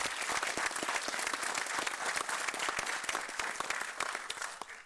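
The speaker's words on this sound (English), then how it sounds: "I think we should give them a round of applause." Audience applause during a county budget address in a hall, many hands clapping in a dense, even roar with distinct sharp claps, sustained for several seconds and tapering slightly at the end.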